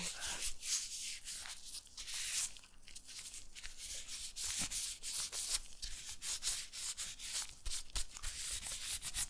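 Latex gloves are rubbed all over with an alcohol wipe, making close, continuous squeaky rubbing and crinkling strokes in a steady back-and-forth rhythm, with no talking.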